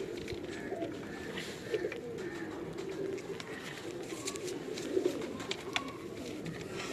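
Pigeons coo softly in a loft in Lahore, low repeated calls over a steady background hiss, with several brief louder coos standing out and faint chirps above.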